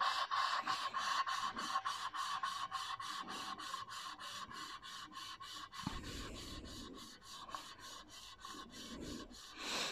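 Saab B204 cylinder head surface being ground by hand, a steady rasping scrape repeating back and forth in an even rhythm, fairly quiet and close, with a brief heavier grind partway through.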